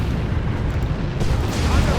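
A deep booming artillery barrage in the video game Dawn of War II, dense overlapping blasts and rumble filling two seconds, loud and close.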